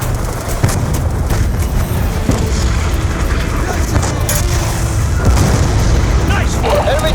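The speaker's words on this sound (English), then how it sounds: "Enemy tanks are firing on the base." Enemy tanks shell a base in the video game Call of Duty: Black Ops II, with heavy booms and blasts rolling through a dense, continuous din of battle noise while voices talk over it.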